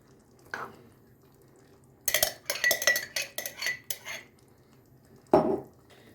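Tomatoes poured into a pot holding rice and zucchini, heard as a burst of close clinking and knocking of utensil against pot lasting a couple of seconds, followed by a single louder clunk.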